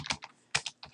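Close, clear keystrokes on a computer keyboard, typed in short uneven bursts separated by brief pauses, with no voices over them.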